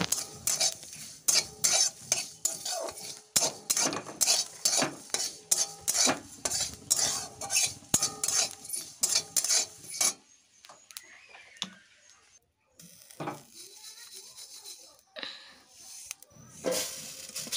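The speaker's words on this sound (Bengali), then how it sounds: "ভেজে নামিয়ে নিচ্ছি।" Garlic, chili and black cumin fry in a pan as a spatula scrapes and stirs in quick rhythmic strokes over a light sizzle, pausing briefly before softer, scattered stirring resumes.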